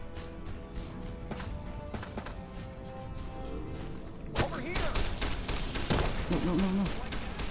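Gunfire in Fallout New Vegas, played on hardcore mode: rapid bursts of in-game shots and impacts that grow denser and louder over several seconds, mixed with game sounds.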